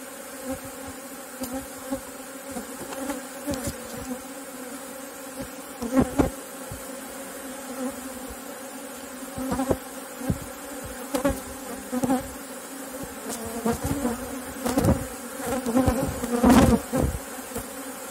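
Honey bees buzz continuously around hive frames built on printed wax foundation sheets, a dense close hum with individual insects swelling louder as they pass near, no voices.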